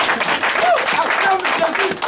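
Church congregation applauding Jesus during a Pentecost-week prayer service: dense, steady crowd clapping mixed with raised voices and cries, loud and close for the whole moment.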